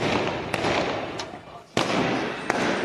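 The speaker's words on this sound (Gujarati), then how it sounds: "ઇન્ડિયા જીતી ગયું, ફટાકડા જ ફૂટે છે, ચાલુ જ છે।" Firecrackers burst across a town celebrating India's win. A continuous distant crackling din is punctuated by several sharp, louder cracks at irregular intervals.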